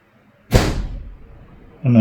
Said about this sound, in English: It's just the wind caught a door upstairs.